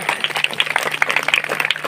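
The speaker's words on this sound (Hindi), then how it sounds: "सबके लिए सम्मान में जोरदार तालियां" Village audience at an outdoor Buddha katha gathering clapping in applause: a dense, fairly close patter of many hands, continuous and fluttering for the whole stretch, with no speech over it.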